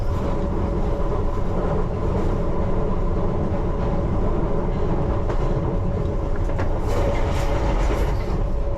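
A London Underground Piccadilly Line train runs at about 30 to 35 miles an hour near Hammersmith, a loud continuous rumble with a steady tonal whine and occasional rhythmic clicks from the wheels.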